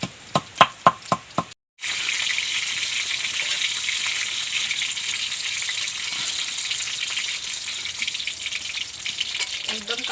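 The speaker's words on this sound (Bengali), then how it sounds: "বাকি মাছগুলো আমি ভেজে নেব" Rohu fish pieces fry in hot oil with a constant close sizzle, preceded by a short run of rhythmic knocks and a brief silence, with faint clinks near the end.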